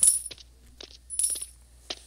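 Coins collected in the Roblox video game, several bright metallic jingles in quick bursts, close and clear with quiet gaps between.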